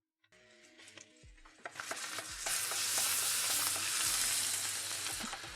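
Oysters hit a hot pan and begin to sauté, opening with quiet clinks before a bright sizzle builds and holds steady and strong, no talking.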